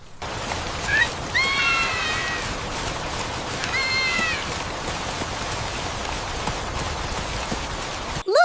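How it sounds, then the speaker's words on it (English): Rain beginning to fall as a steady, moderate hiss throughout, with a cat meowing twice over it in an animated story. "Oh, it's starting to rain."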